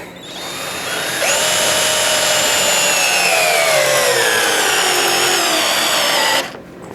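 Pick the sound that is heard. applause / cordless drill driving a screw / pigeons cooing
cordless drill driving a screw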